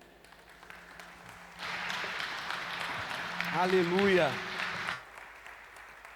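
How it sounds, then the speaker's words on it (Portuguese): A church congregation at a Wednesday discipleship service claps for about three seconds, a broad wash of applause swelling and then stopping, while a voice calls out over it. "Glória a Deus, aplauda o Senhor."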